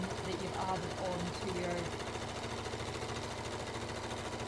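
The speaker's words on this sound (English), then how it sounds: "I'm sewing up the other side seam" A sewing machine stitches a side seam of a bodice, a fast steady mechanical chatter running close and continuous while a voice talks over the first half.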